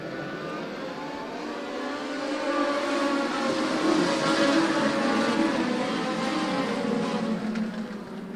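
Race cars in a dirt-track feature at Maquoketa Speedway roar back to full throttle on a green-flag restart, a dense, steady engine din swelling louder midway and holding on, with no talk over it.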